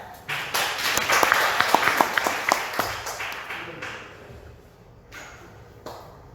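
An audience at a monthly meeting of the Daegu-Gyeongbuk Heungsadan welcomes a guest speaker with a short burst of hand clapping. Sharp claps stand out at first, then the clapping trails off into quiet room noise.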